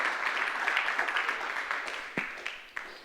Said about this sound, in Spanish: Dele un aplauso a la gloria del Señor.